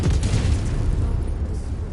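A booming explosion as a target is destroyed in the video game MechWarrior 5, a loud low rumble that rolls and decays over two seconds.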